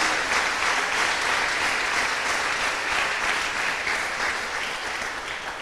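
A church congregation applauds during a Spanish-language sermon, sustained, even clapping from many hands at moderate volume with no voice on top.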